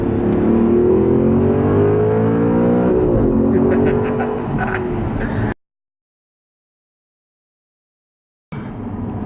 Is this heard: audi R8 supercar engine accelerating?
yes